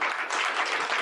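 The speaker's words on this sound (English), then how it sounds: "let's give a round of applause to Lynne" Moderately loud audience applause for a presenter at a social media talk. It is a brief, dense burst of many hands clapping with no voices over it.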